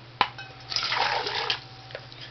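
A short splash starts a brief pour of water into a flat-bottomed pot, which trickles and sloshes for about a second before fading.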